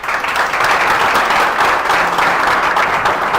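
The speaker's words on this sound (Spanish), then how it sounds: "al que también le pido un fuerte aplauso." Live podcast audience in Santa Marta breaking into loud, dense applause, a continuous close wash of many hands clapping without a break.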